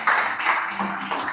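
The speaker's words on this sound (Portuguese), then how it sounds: "Você pode dar um forte aplauso ao Senhor" A church congregation applauds the Lord during a worship service, a fairly steady wash of clapping at moderate volume with a few louder swells.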